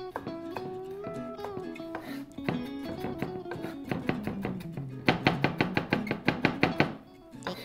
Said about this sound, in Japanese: ニンニクはひたすら切ってます